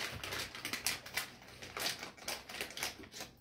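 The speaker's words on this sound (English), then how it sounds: "So, we're just using scissors." Scissors snip and crinkle through a stiff plastic snack package in a string of quick, close, crisp cuts, fairly faint, with no talk.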